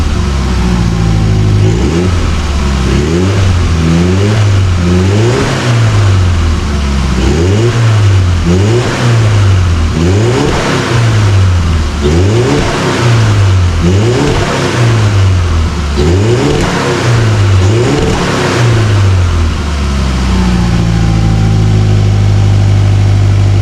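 A Volkswagen Golf engine runs close by and loud, revving repeatedly in a steady rhythm of rising and falling pulses before settling back toward idle.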